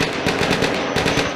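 A rear gunner fires a machine gun at an attacking fighter, a loud rapid burst of evenly spaced shots, roughly eight to ten per second, with no talking.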